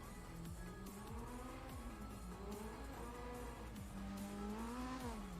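A rally car in the Dirt racing game, engine revving and shifting pitch up and down steadily with tire noise and skids underneath, continuous and fairly close.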